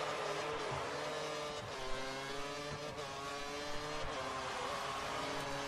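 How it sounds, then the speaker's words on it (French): Formula 1 cars racing in a video game Spanish Grand Prix: a steady, faint drone of several high-revving engines layered together, with rising and falling pitch as the cars run close behind one another. "Et Krilex qui se cale bien derrière la Sauber de Gore."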